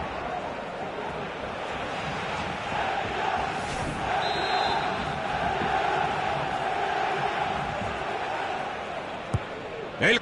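Stadium crowd at a Spanish Super Cup football match in San Mamés, a broad sustained roar with some cheering beneath a commentator's voice, rising slightly midway.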